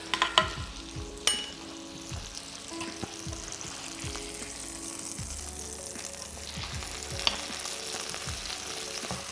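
A thick piece of cod loin pan frying, a quiet steady sizzle and crackle with occasional sharper pops and faint clinks.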